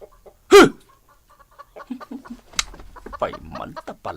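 Chickens on a farm cluck and squawk, with one loud flapping squawk early on, then scattered clucks mixed with a person's shooing calls and talk.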